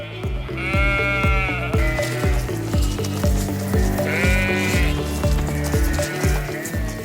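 Sheep bleat repeatedly while transported in a specialized truck, loud wavering cries rising over a steady low mechanical hum, with a rhythmic clatter underneath.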